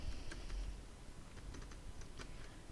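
Soft, quick keystrokes on a computer keyboard while code is typed, a light irregular patter heard faintly over steady room hiss.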